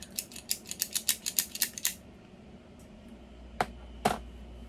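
A rapid run of about a dozen crisp, close snips or clicks is followed by a pause and then two sharper cuts, as a cigar is trimmed with a straight cut. No one speaks.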